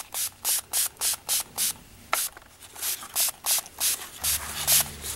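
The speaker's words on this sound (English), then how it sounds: "I'm going to spray some patina on the dark bronze to make it green." Patina is sprayed from a pump bottle onto wet dark bronze paint on a sculpture: about a dozen short, hissing spray bursts in a steady rhythm, close and fairly loud, with a brief pause midway.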